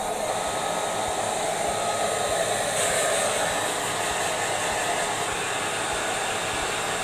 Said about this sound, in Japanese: 時間ないときはドライヤーで乾かしたりします。